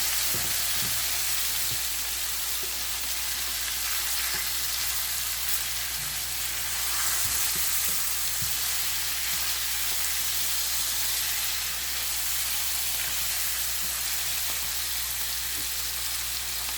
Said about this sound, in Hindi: तो भी फ्राई कर लेंगे थोड़ा सा